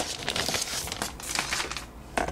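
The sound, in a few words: plastic wrapping being removed from Apple wireless keyboard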